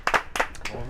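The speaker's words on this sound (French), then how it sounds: "On peut l'applaudir, applaudissements bien sûr." Brief clapping from a studio audience on a French auto-moto television show as a guest arrives, a few close, loud claps in quick succession with no talk over them.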